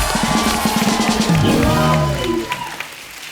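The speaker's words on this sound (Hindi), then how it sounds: "एक बार जोरदार तालियां हो जाएं अक्षय पाजी के लिए" A TV comedy show's studio audience applauds for Akshay Kumar, the clapping mixed with cheering and a musical tone before thinning out near the end.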